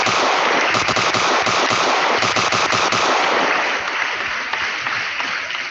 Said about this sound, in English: Can we get some gunshots for that?